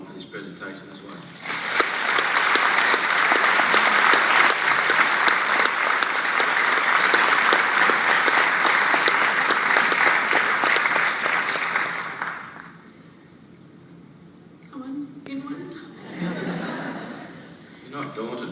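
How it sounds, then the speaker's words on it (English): An audience applauds at a presentation, strong sustained clapping for about ten seconds before fading, followed by quieter talk and a few chuckles. "I'd like you to also join us in applauding members of Stephanie's family who have come along for this presentation as well."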